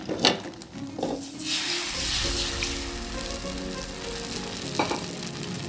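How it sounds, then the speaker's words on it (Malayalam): Kerala breakfast cakes sizzling and frying in a hot pan, a steady close crackle with faint scraping and a few tonal clinks, no talking. "അപ്പൊ ഇങ്ങനെ ഓരോന്നോരോന്ന് ഞാൻ ചുട്ടെടുക്കുന്നുണ്ട് കേട്ടോ"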